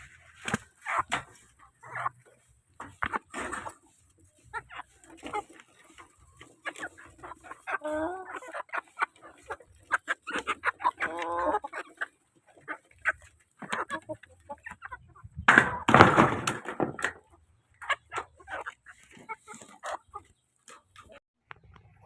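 Rhode Island Red hens clucking in a crowded pen, scattered calls near and far with a dog barking at times, a voice talking now and then, and a louder burst of clucks partway through.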